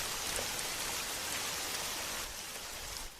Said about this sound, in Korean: 이런 빗소리를 갖다가 뭐 듣고 있는다거나 그러면 마음이 좀 평안해지죠